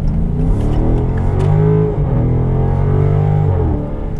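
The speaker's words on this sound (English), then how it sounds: "I'm going to show you guys what I mean by crazy acceleration and great sound." A 2016 Dodge Charger SRT accelerates hard on a highway, its loud engine roaring steadily with rising and shifting pitch close up from inside the car, with no talking.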